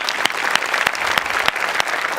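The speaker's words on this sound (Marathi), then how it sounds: "सो तुझ्या पॅशनसाठी माझ्याकडून खरं तर टाळ्या." Applause from a studio audience at a Marathi comedy show, a short, loud burst of clapping lasting about two seconds, with sharp individual claps standing out.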